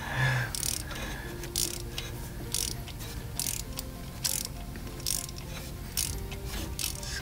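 A hand ratchet turns out a broken stud in close, even bursts of rapid clicking, each stroke a crisp pawl rattle followed by a short pause, repeating steadily about every half second.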